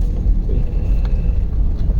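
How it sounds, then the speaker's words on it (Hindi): A car rolls along during a driving lesson with a steady low engine rumble and road noise, close and constant throughout. "आराम से गाड़ी बढ़ाइए, चलते रहिए और चलिए आगे"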